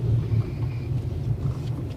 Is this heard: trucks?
yes